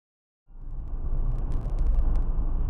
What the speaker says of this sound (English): Traffic's still passing about 30 miles an hour.